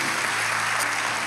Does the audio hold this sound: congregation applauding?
yes